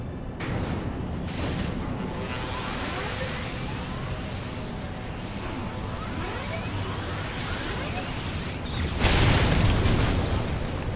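Armor cannon firing in Final Fantasy XIV, a rumbling mechanical barrage with a big booming blast near the end, loud and up close against a continuous low roar.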